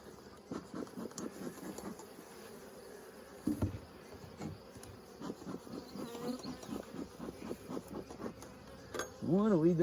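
Honeybees buzzing at an opened hive, a soft close hum with pulsing buzzes and scrapes of frames being worked, fairly faint throughout.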